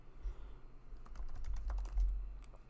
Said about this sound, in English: we are going to type in moving average